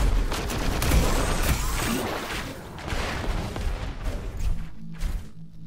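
Dense, sustained gunfire in the arena shooter Diabotical, with rapid overlapping shots and booming impacts filling the whole stretch, loud and close, easing slightly toward the end.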